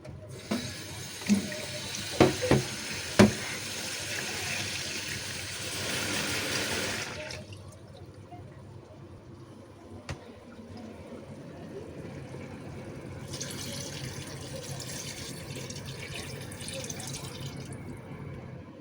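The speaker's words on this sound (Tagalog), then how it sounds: "Lagay tayo ng tubig." Tap water runs into a cooking pot for chicken tinola, a steady rushing pour with a few clanks near the start, then it stops, leaving quieter rustling before a second, fainter run of water near the end.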